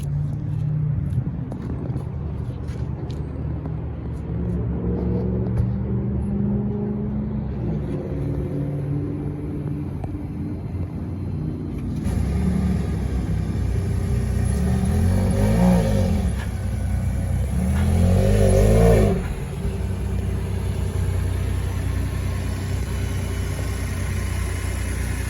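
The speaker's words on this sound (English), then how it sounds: "get a quick remote start or a cold start on this thing" A 2023 Ford F-150 Limited hybrid pickup starts cold, a low steady rumble that swells slightly partway through, fairly quiet with no talking over it.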